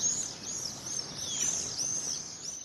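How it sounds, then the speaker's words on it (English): Swifts calling, thin high-pitched screaming trills repeated across the sky over a soft, steady outdoor background, with no voices. "For many, the sound of swifts marks the start of summer."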